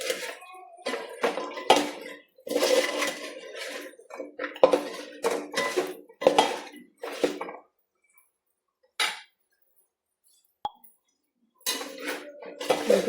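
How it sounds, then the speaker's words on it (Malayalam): A spatula stirs food in a pan, producing bursts of scraping and metallic clinks that come in irregular runs, with several silent gaps in between. "നമുക്ക് ചട്ടുകം കൊണ്ടൊന്ന് ഇളക്കാം."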